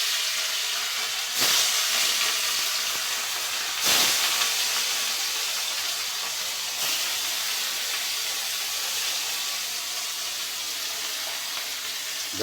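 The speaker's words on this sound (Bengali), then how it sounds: "এটা এখন ভাজা করতেছি গাইস।" Large pieces of katla fish belly fry in a pan with a continuous loud hiss and sizzle, a few sharper spits of oil breaking through the steady sound.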